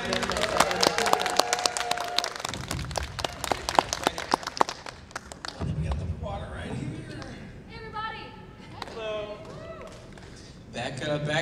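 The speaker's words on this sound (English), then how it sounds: "please give a big round of applause for one of video gaming and acting's rising stars." Convention audience at a gaming and acting panel claps for a guest as she comes on, a dense burst of applause and crowd noise that thins out while a voice begins talking over the fading clapping.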